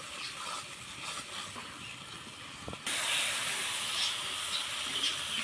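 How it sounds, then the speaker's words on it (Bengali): Spice paste frying in oil for a Bengali vegetarian curry, a steady close sizzling hiss that jumps louder partway through and stays bright, with no talk. "মশলা ভাজা হয়ে গেছে, তার কারণ দেখুন সাইডে সাইডে তেল ছেড়ে দিয়েছে।"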